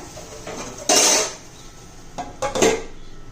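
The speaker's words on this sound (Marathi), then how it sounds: "आता झाकण ठेवूया" A metal lid clanks down onto a pot with a bright ring, followed by a couple of lighter clinks as it settles.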